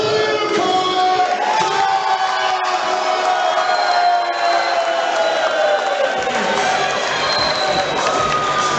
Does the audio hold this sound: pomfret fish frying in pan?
no